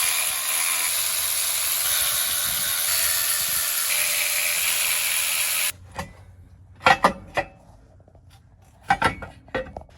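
Ratchet clicking in short sharp bursts on bolts of a front axle differential, heard up close after a steady hiss cuts out, with a few separate clusters of quick ratcheting.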